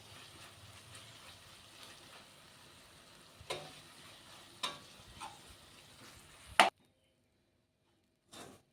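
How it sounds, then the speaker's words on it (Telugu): Sesame flour stirred into drumstick leaves frying in a pan, a steady soft sizzle with scraping stir strokes and a few sharp clinks of the spatula, ending in a louder knock before silence and one last tap. "కుండలు కట్టకుండా కొంచెం కొంచెం వేసుకుని తిప్పుకుంటూ ఉండాలి ఇలాగ"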